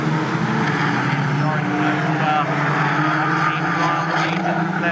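Caterham Seven 270R race cars during a championship race at Snetterton circuit: a continuous loud, droning engine roar that holds steady throughout, with a voice talking over it.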